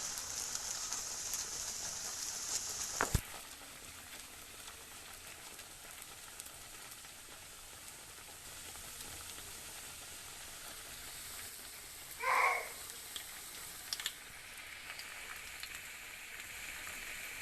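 Potato samosas deep frying one by one in hot oil over a slow flame, a faint, steady bubbling sizzle broken by a couple of brief clatters.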